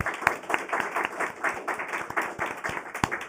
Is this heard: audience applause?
yes